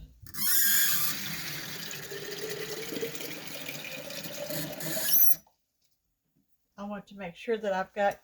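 Water runs from a tap into a jar of home-canned sauerkraut, a steady splashing fill lasting about five seconds, then silence before someone begins talking.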